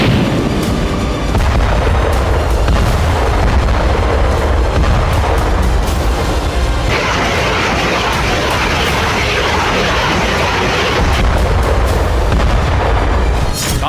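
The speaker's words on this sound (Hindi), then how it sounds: "बैटल ग्राउंड से मल्टी बैरल रॉकेट लॉन्चर से बेहिसाब बारूद बरसाया गया।" Multi-barrel rocket launchers fire on a battlefield in the Russia-Ukraine war, with dense, loud, overlapping booms and blasts rumbling continuously and a harsher burst partway through.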